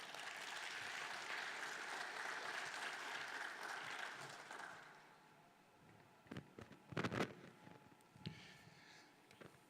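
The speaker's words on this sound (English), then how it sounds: "If you can give them a round of applause," Audience applause at a conference closing panel, a steady wash of clapping that fades after about five seconds, followed by a few scattered knocks and handling bumps.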